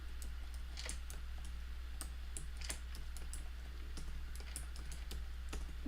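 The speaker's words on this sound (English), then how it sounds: "I'm going to type my email address in the chat." Steady keyboard typing on a computer as an email address is entered, a quick irregular run of clicky keystrokes over a constant low hum, with no talking.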